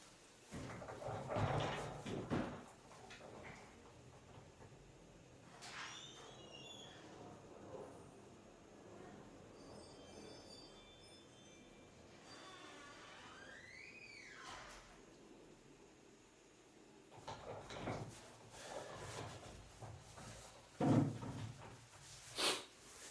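A door being opened and closed indoors, heard as scattered faint knocks, thumps and creaks, with louder clunks near the start and again toward the end, and quiet movement and muffled sounds in between.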